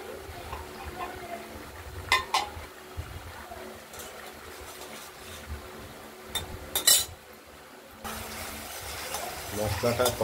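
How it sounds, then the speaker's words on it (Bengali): Spice masala being sautéed and stirred in a pan for a paneer bora and potato curry, with intermittent scraping and clinking of a spoon against the pan, moderately close, over low background noise. "মশলাটা কষানো হচ্ছে,"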